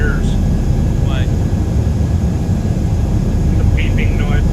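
Aircraft cockpit no-oxygen warning tones, a few short high chirps near the start and a quick cluster near the end, heard faintly over loud, steady engine and cabin roar.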